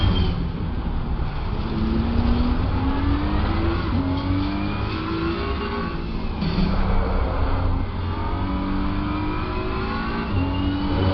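Race cars in Assetto Corsa Competizione, a BMW among a Ferrari and other cars on track, engines droning loudly and steadily with repeated upshifts and faint tire squeal, no talking.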